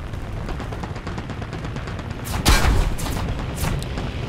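Bombs dropped from a plane explode in War Thunder ground realistic battle, a heavy boom bursting out midway above a steady rumbling game background, followed by a few further sharp cracks.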